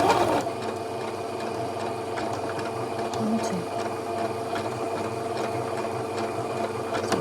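A sewing machine runs a blind hem stitch along a curtain hem, whirring steadily and mechanically at close range with small rhythmic ticks throughout.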